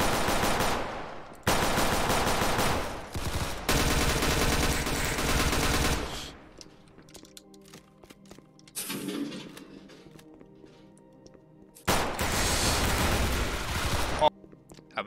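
Automatic gunfire in a Roblox facility roleplay game, with several long, loud bursts of rapid shots separated by quieter stretches, and a final burst near the end.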